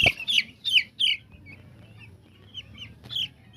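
Nine-day-old broiler chickens on a farm cluck in short bursts close by, a few quick calls at the start and more scattered clucks later over a low background hum.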